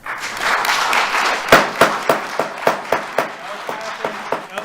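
Audience at a school board meeting breaking into brief applause, a short spell of scattered clapping that thins into a few distinct claps, moderately close in a large room.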